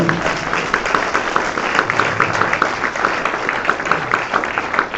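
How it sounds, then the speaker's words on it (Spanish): Church congregation applauding at a Sunday Christian service, steady dense clapping from a crowd filling the room, continuous and fairly loud throughout with no pauses. "Denle un aplauso al Señor."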